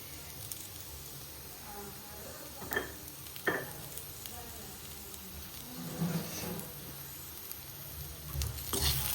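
Agathi flower stir-fry being stirred and fried in a pan, a steady soft sizzle broken by a few sharper scraping strokes of the spoon, heard close with no talking.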